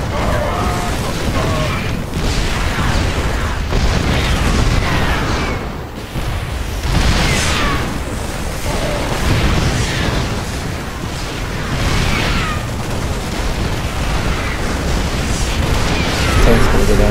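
Sieged tanks blowing up in a StarCraft II Terran-versus-Terran match: dense, continuous explosions and booming blasts fill the whole stretch at steady loudness, with a voice talking over the battle.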